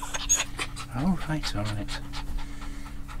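Dogs pant rapidly and close by inside a vehicle at a caravan site, quick breathy bursts mixed with a brief whine, while a person speaks briefly over them.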